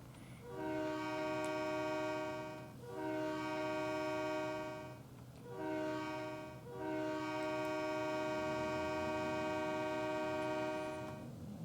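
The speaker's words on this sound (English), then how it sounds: "the engineer has to blow the horn even though they're stationary for a grade crossing" A stationary locomotive sounding its horn for a grade crossing in a train simulator game, four long, loud, chord-like blasts separated by short pauses, with an idling engine rumbling underneath.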